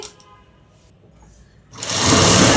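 A sewing machine stitches the border corners of a dupatta, starting abruptly after a quiet pause and then running loud and steady at close range.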